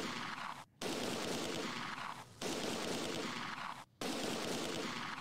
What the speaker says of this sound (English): Should probably stop the 60mm mortar firing.